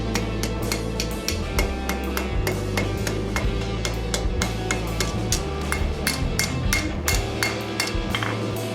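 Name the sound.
hammer strikes forging hot steel leaf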